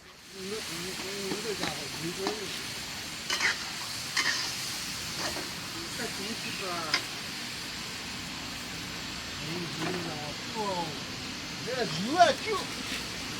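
Steady, close sizzling hiss of meat grilling outdoors on a fishing trip, running throughout while people talk over it.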